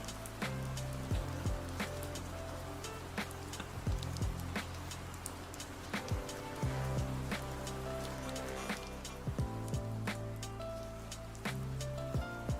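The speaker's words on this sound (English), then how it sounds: "Oh, is the rain too annoying? Let me turn the rain off." Steady, moderately loud rain ambience with scattered drip-like ticks over a constant wash, continuous throughout.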